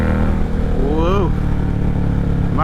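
Indian Challenger motorcycle pulling hard in second gear, a loud close engine note rising in pitch with a gear change, continuous under the rider's voice.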